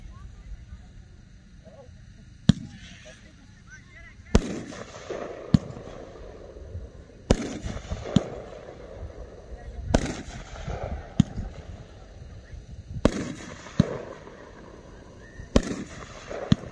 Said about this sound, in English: Number 75 from Brothers Fireworks, 20 Shot Bold Color.